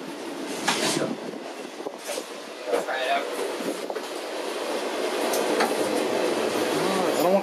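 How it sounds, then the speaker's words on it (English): A big cargo train at a transportation museum, with a low rumbling rail clatter and occasional metallic squeals, while people talk close by over the noise. "Big cargo train."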